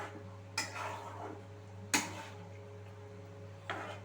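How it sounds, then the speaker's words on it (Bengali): Paneer is stirred into masala in a pan, with three sharp spoon-on-metal clinks spaced over a few seconds above a steady low hum, close and moderately loud. "পনিরগুলো দিয়ে আমি আবারও খুব সুন্দর করে আমি মিশিয়ে নিচ্ছি।"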